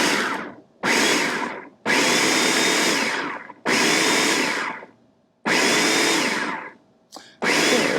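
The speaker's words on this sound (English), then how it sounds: "it tends to work better with a food processor like this" A food processor chops fresh basil in repeated loud pulses, its motor whirring for one to two seconds at a time between brief pauses, close up and without talk.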